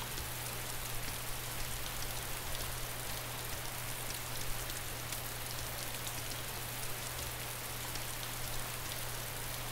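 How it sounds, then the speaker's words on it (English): Steady rain pours down in the video game DayZ, a dense continuous hiss of drops with a faint low hum underneath, unbroken for the whole stretch. "I'm running in the rain,"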